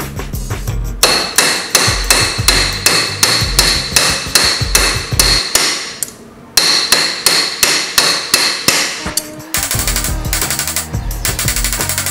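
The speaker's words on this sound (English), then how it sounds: "I'm going to do that using this ball hammer and this metal part of the vise here" Rapid, loud metallic ball-hammer blows flattening copper on a vise, steady rhythm with a brief pause midway, then faster ringing strikes.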